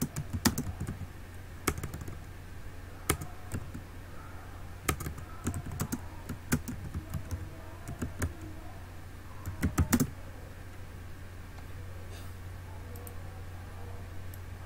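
Typing on a computer keyboard at a desk comes through as sparse, quiet clusters of key taps with pauses between bursts, set over a faint room hiss.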